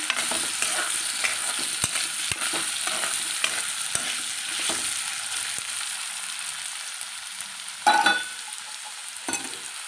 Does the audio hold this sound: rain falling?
no